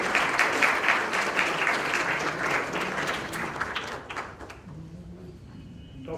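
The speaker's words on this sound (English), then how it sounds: "Ladies and gentlemen, please put your hands together and a loud round of applause." A conference audience bursts into loud, dense applause to welcome the chief guest at an annual paediatric endoscopic surgery conference, then the clapping thins and fades out toward the end.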